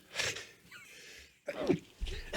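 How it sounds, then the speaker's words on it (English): A person sneezes, with a sharp burst early on followed by a breathy pause and then a second gasping sneeze, close and fairly loud. "Hang on, I gotta sneeze."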